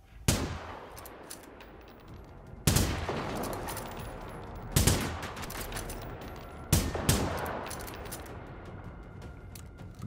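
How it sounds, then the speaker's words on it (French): Gunfire from the video game Generation Zero, four sharp loud volleys spaced a couple of seconds apart, each a burst of overlapping shots that trails off into a fading rumble. "Bien synchro les tirs."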